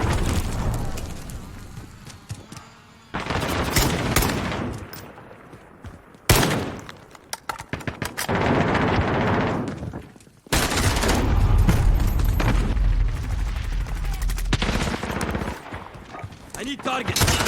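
SKS rifle gunfire in a Call of Duty Modern Warfare match, loud bursts of shots and explosions in several dense stretches with brief pauses, mixed with game sounds and callouts.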